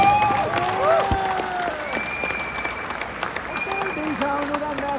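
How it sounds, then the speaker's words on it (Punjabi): Applause from an audience at a live show in Halifax, Canada, clapping steadily throughout at moderate loudness, with some tonal music or voices running over it. "ਇੱਕ ਤਾੜੀ ਹੈਲੀਫੈਕਸ ਦੀ"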